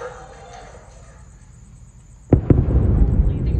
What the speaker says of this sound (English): And there's a double sonic boom from each of the two boosters.